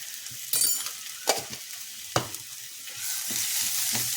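Green chilies sautéing in a pan alongside ginger-garlic paste, giving a steady soft sizzle with a few sharp clinks and scrapes of a utensil against the pan, close and moderately quiet.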